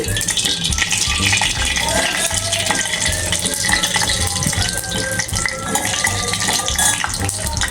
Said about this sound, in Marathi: मोहरी अशी तडतडली आहे